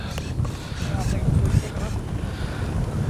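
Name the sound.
wind blowing outdoors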